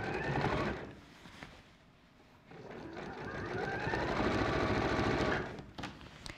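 Domestic sewing machine running a straight stitch on a garment seam: close, rapid mechanical chatter in two bursts separated by a brief slowdown, then stopping near the end.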